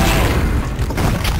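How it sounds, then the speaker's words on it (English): Rocket launcher blasts and explosions in Duke Nukem 3D (EDuke32) fill the space with a loud, continuous booming rumble and crackling debris, as rockets are fired from above toxic waste into a prison-cell area. "I like to just hover above the toxic waste and just rocket everything to death"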